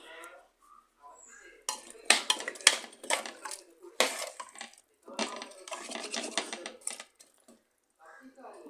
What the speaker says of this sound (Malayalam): ഇനി നമുക്കിത് നല്ലോണം ഇളക്കി കൊടുത്തിട്ട് ഇളക്കി കൊടുക്കാം